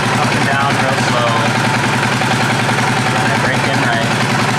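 An engine idles and is revved up and down slowly while being checked for damage, including a worried-about clutch, after a hard trip. It makes a loud, steady mechanical drone that rises and falls gently throughout.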